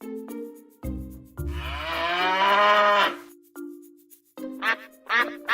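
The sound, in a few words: cows mooing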